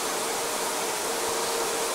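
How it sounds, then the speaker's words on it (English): The APU of a Mil Mi-8 MTV helicopter runs in the DCS flight simulator game, a steady, loud broadband roar and whine holding constant throughout. "that's the APU online and working, which is quite a noisy thing"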